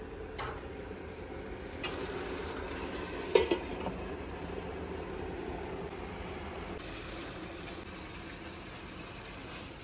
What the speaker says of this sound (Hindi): जिस पानी में पास्ते को मैंने बॉईल किया था वही पानी मैं इसमें डाल रही हूँ।